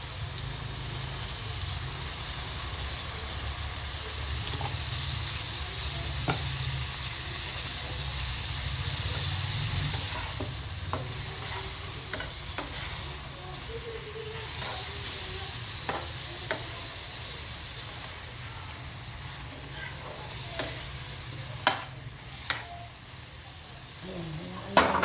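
Chicken adobo frying in a pan after soy sauce is poured in, a steady close sizzle with scattered clicks of a utensil stirring and scraping through it, no talking.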